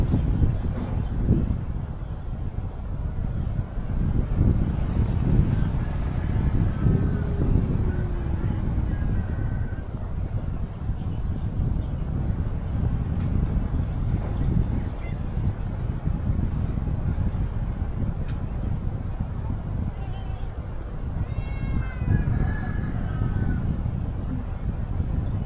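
Strong wind on Mt. Anahawon buffets the microphone in a continuous roaring rush, with faint distant voices barely audible underneath.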